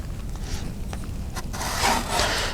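A knife being sharpened on a 3000 grit whetstone, with steady rasping strokes of blade on stone, close and continuous with no voices.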